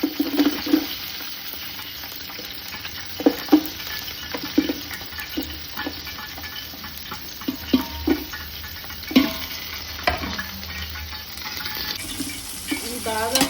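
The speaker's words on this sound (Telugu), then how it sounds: "ఆనియన్స్ బాగా ఫ్రై అవ్వాలి" Onions frying in hot oil with whole garam masala for a chicken biryani, a constant close sizzle with scattered clicks and taps of a spoon against the pot, moderately loud throughout.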